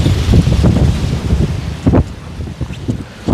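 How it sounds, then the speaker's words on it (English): Strong wind gusting across an open golf course, roaring microphone buffeting in steady loud bursts that rise and fall, with heavier surges near the middle and end. "Gosh, it's windy."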